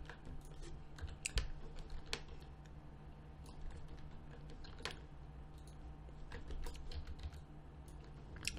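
Computer keyboard keys tapped for Photoshop shortcuts, with quiet, close clicks coming in irregular bursts, some presses sharper than others, over a faint steady background hum.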